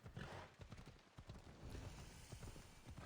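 Horse hooves clip-clopping at a steady trot in the Assassin's Creed Odyssey game world, a rhythmic run of hoofbeats with a brief whinny, fairly close and continuous.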